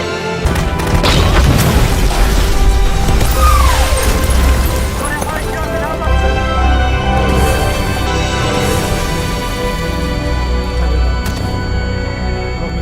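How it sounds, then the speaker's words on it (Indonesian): A suicide bomb detonates near a tank in a war film, a heavy boom with crashing debris and rumbling aftermath, mixed with scattered noises and voices over a sustained low roar. "Arin melakukan aksi bom diri di depan tank pasukan ISIS"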